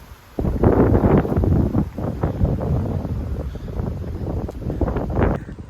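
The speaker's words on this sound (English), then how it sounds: "But it's really windy this evening" Strong evening wind gusts through the woods and buffets the microphone with a loud, continuous rumbling roar.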